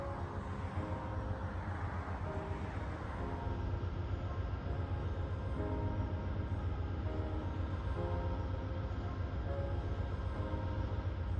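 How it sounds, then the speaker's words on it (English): An Amtrak Southwest Chief train of stainless steel Superliner cars rumbles past near Albuquerque with a low, continuous roar and rolling clatter of wheels on rails, moderately loud from start to finish. "we get this stunning view of our train in all its glory"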